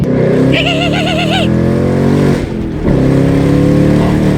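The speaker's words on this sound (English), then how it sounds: "I have never heard a car scream like this, except for my 2018 Mustang GT with Roush axle backs." A 2018 Ford Mustang GT with a Roush axle-back exhaust revs hard, a loud close roar with a rising-and-falling wail that dips briefly mid-clip, then resumes at full volume.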